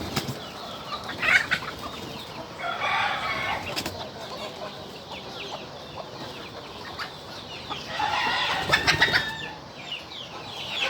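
Chickens cluck and a rooster calls on a farm at early morning, with bursts of wing flapping and scattered bird calls over a steady outdoor background, no talking.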